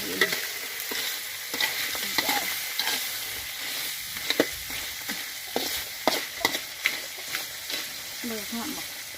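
Field crabs fry and get stirred in a pot. A steady close sizzle runs throughout, with scraping and clinking from the stirring and no talk.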